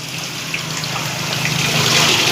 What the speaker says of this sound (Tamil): நம்ம இப்போ இதில் தண்ணியை பிடிச்சிடலாம்